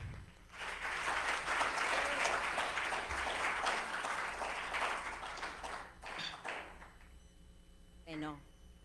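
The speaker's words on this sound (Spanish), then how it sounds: "Les pido un fuerte aplauso para ella." Audience applause for a speaker at an academic talk, a dense burst of clapping for several seconds that thins out, followed by a voice beginning to speak.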